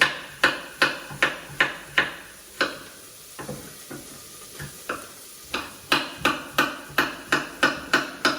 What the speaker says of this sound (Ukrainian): А ми нарізаємо гарбуз.